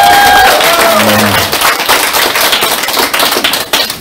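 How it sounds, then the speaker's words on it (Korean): Members at a party meeting clap for their party leader, loud close applause that fills the room with dense sharp claps, after a brief tonal sound at the start, and fades slightly near the end. "조원진 당 대표님께 박수 한번 부탁드리겠습니다"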